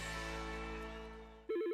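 A telephone ringtone in a phone system advert: a sustained electronic tone ending in a sharp, warbling ring burst that pulses rapidly and loudly, with no voices.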